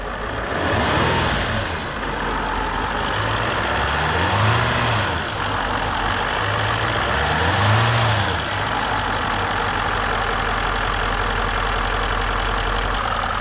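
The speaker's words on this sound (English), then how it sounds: "Well, it fired up. I'll give it a wee rev up." A Range Rover L405 with a boost problem runs close by, giving two rising revs that fall back to a steady, rumbling idle, loud and without voices.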